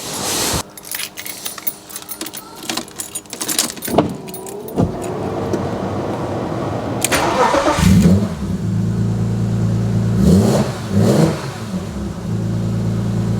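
Keys jangle, then a 25-year-old European-spec BMW M3 track car engine starts and revs loudly a few times before settling into a steady, rumbling idle up close.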